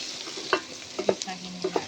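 Pre-boiled beef chunks for kaldereta hitting a hot pan and frying, a steady sizzle broken by a few sharp stirring scrapes and clanks close by.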